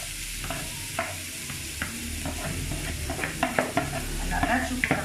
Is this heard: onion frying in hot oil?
yes